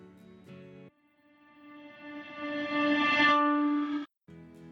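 A reverse reverb effect, made from a long, dense reverb that is rendered and then reversed, swells gradually into a loud tonal peak and cuts off abruptly, with short musical fragments before and after it.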